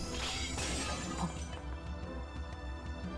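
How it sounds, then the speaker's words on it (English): Daggers shatter in a Fate/Hollow Ataraxia battle scene: a loud, bright crash of breaking fragments in the first moments, followed by a tinkling scatter of shards over sustained game music. "The fangs are pulverized, shattering without a trace."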